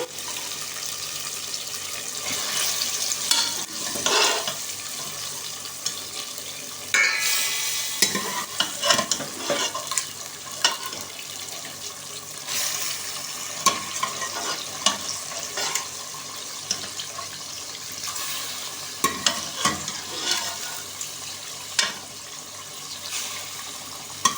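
Boiled mutton with fried ginger sizzles in a pan for an aloo gosht, with steady frying hiss and repeated scraping stirs of a spoon against the pan throughout, close and fairly loud, with no talking.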